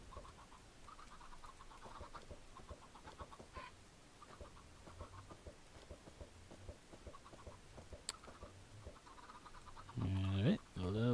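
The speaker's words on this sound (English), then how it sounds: "There's 30-ish chickens." Many chickens clucking in a Minecraft chicken farm, soft repeated clucks and chirps scattered in a loose irregular rhythm, fairly faint, with a louder burst near the end.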